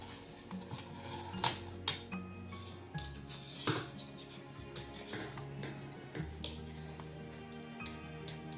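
Size 10 knitting needles click and tick in light, irregular taps while 50 stitches are cast on for woolen socks, the small metallic clinks sitting over a soft steady musical background.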